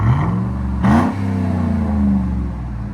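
A Chevy Tahoe with a 5.3L V8 and a Carven R-Series exhaust revs once: a steady, deep idle burble swells into a brief throttle blip, then settles back into a rumbling idle nearby.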